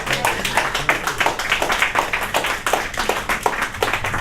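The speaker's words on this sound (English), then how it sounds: "Everybody clap it up." Audience clapping at a spoken-word event, steady and dense for the whole stretch with sharp individual claps standing out now and then, no voices over it.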